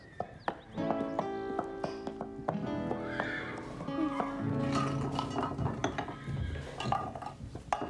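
Cartoon horse hooves clip-clop up close in a steady rhythm as the horse arrives, with a whinny and some clinking sounds over a light musical backdrop.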